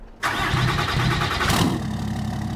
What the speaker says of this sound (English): An awesome cold start here.